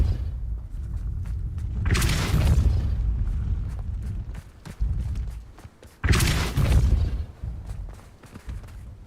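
Depulso force spell cast in the Hogwarts Legacy video game, two broadband whooshing bursts with low thuds a few seconds apart, loud and close over a rumbling game soundscape.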